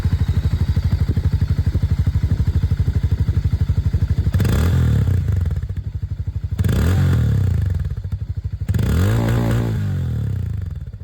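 Hero Mavrick 440 motorcycle running close by with a steady thumping idle from its engine and exhaust. Three sharp revs swell and fall back to idle, and no one speaks.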